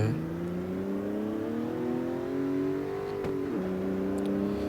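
BMW M46 car in the racing game CarX Street, its engine revving steadily upward through the gears with rising harmonic tones, a brief shift dip near the end, loud and continuous with no talk.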